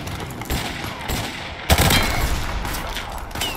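Shotgun fire in the Call of Duty Modern Warfare video game: a loud blast at about 1.7 s, louder than the surrounding game noise and scattered shots, with brief player voices nearby.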